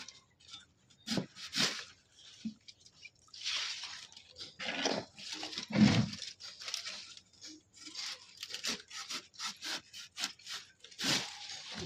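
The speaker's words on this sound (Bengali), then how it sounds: "তো আনারস দুটো আজকে আমি কেটে আপনাদেরকে দেখাবো এরকম কাটছি" A knife saws through a ripe pineapple in a series of rough, scraping strokes, each one rasping close up with short pauses between cuts.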